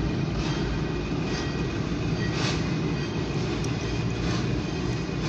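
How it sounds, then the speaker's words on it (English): A very short OC&T freight train heading to East Titusville, Pennsylvania rumbles steadily as it passes close by, with a continuous low roar and rattling of wagons, no voices over it. "Got a freight coming."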